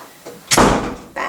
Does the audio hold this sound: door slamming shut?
yes